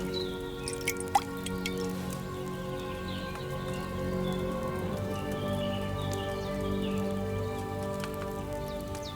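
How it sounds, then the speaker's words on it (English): In Kingdom Come: Deliverance II, potion is poured into a phial: scattered liquid drips and trickles splash over a steady background hum of game ambience and music. "All you have to do now is decant it. Get a phial and pour it in."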